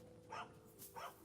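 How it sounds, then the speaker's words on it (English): A dog in Kingdom Come: Deliverance 2 gives two short barks about half a second apart, fairly close and moderately loud over a steady low game background hum. "Call off that dog, or I'll report you for being a public nuisance."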